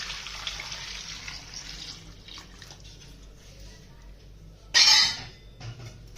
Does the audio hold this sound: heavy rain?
no